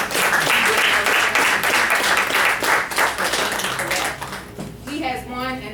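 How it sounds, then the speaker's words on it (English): An audience at the 9th Annual Healthy For The Holidays event applauds in a dense, sustained burst of clapping that fades near the end as a voice begins speaking. "So I just want to clap for that because consistency is key"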